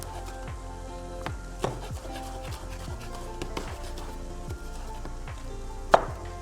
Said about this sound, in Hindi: हम अपना टमाटर चॉप करेंगे।